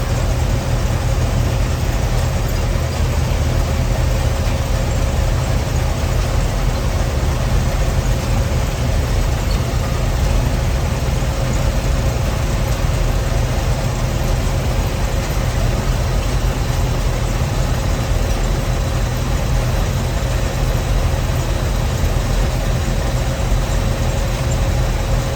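A Gleaner L2 combine's engine runs at a steady idle, a continuous low rumble with a constant hum throughout, close and loud, with no talking.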